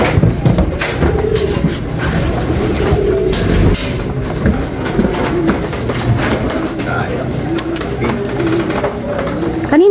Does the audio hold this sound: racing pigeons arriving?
yes